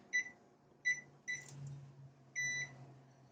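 A crockpot's timer buttons give a series of short electronic beeps, several single presses and then a longer tone, close and clear over a low steady hum.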